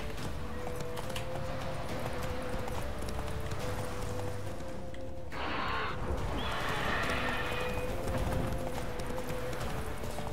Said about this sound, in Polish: Konik, gdzie jesteś? Tutaj, szybko, dawaj tutaj na konia.